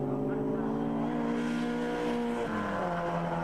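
Ginetta GT5 race car engines drone loudly and continuously at Donington Park, pitch shifting downward as the cars brake into a corner, with a commentator talking over them.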